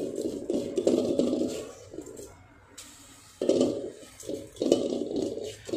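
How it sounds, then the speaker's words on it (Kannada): Rice and water poured into a cooking pot, two bursts of close splashing and pouring separated by a short quiet pause. "ನಾನು ಈ ಅಕ್ಕಿ ಮತ್ತು ನೀರನ್ನ ಹುಟ್ಟರೆ ಹಾಕ್ತೀನಿ."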